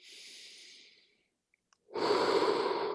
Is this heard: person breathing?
yes